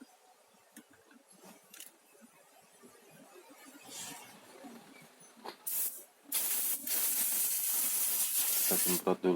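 An aerosol cleaner sprays scooter CVT parts on a Honda Vario 125/150 during a service, with a few short hisses early on, then a loud sustained spray blast over the last few seconds, with faint workshop sounds between.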